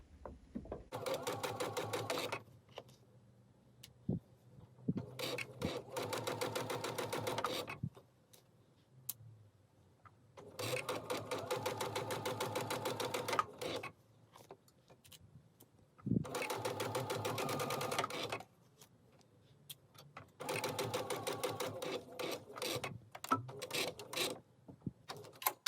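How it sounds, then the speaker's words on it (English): A sewing machine top stitches fabric along a folded edge for quilt block construction, running in four steady whirring bursts separated by quiet pauses. "We'll lower our presser foot and start stitching."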